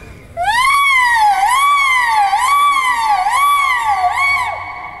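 A human voice imitates an ambulance siren at an opening ceremony, producing a loud, continuous wail that rises and falls in repeated sweeps, held for several seconds before tapering off.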